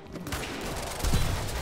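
Brief burst of gunfire in the Quantum Break video game, rapid shots mixed with a heavier impact near the end, moderately loud over a busy combat background.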